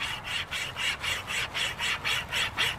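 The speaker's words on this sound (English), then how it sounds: "we tip it and turn it a little bit so we're not sawing on the full width or thickness of the limb" A hand-pulled wire chain saw cuts through a tree limb with steady back-and-forth rasping strokes, about three per second, close and even in rhythm.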